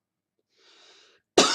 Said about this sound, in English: First hiccups, then a cough.